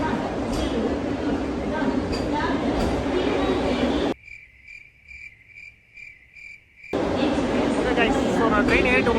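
A Vande Bharat train at a station gives a steady loud rumble with shrill high whine, cut by a few seconds of near quiet broken by rhythmic beeping chimes before the rumble returns.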